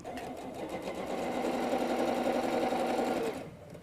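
A sewing machine runs steadily, stitching quilt block seams at a quarter-inch allowance for a star wall hanging, with a continuous close whirring drone that stops near the end.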